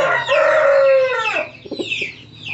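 A rooster crows once, loud and close, its call rising and then trailing off, followed by a few soft clucks.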